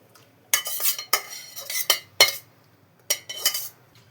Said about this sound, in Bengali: রান্না আমার কমপ্লিট, এবার আমি সার্ভ করে নিচ্ছি।